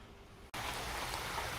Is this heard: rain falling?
yes